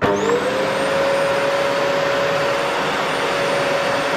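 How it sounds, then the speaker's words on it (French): An 800 W bagless Conga vacuum cleaner motor spins up with a rising whine, then runs at a steady, loud, even drone throughout. "Donc, on va allumer déjà l'aspirateur. Donc, on va voir s'il fait un peu de bruit."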